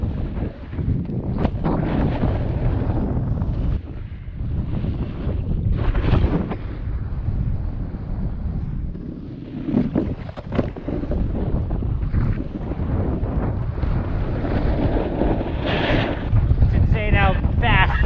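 Strong mountain wind at a ski area buffets the microphone in a steady roar with gusty surges, while people talk over it in places.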